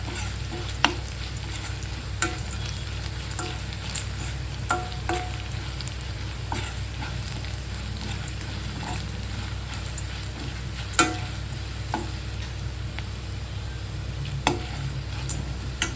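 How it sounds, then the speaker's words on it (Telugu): Carrots fry in a pan with a steady, even sizzle throughout, broken by occasional light ticks and clicks of a utensil against the pan. "కొంచెం గోల్డెన్ కలర్ వచ్చే వరకు ఫ్రై చేసుకుంటాం"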